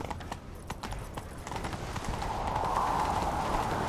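Rapid, rhythmic hoofbeats of a galloping horse in The Witcher 3 drum steadily and grow slightly louder, with a rushing wind-like hiss building underneath.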